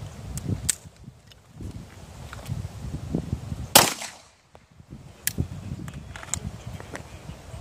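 Pistol gunshots at an outdoor training range: a few sharp, close cracks spread over several seconds, with one especially loud report, against a quiet background with light movement noise.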